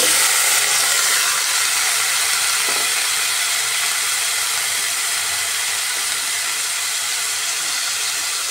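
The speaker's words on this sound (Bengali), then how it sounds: "এবার কেটে রাখা চাল কুমড়ো দিয়ে দিচ্ছি।" Chopped ash gourd hits hot oil with fried onion and green chilli, producing a loud, steady, close hiss of sizzling that holds evenly throughout.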